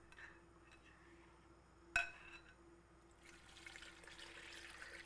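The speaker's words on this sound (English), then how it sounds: "I'm going to just pour it into the crock pot with everything else." Partly dissolved liquid is poured into a crock pot holding a pot roast and other ingredients, a faint, steady wash of splashing after a small clink, quiet and close in a still kitchen.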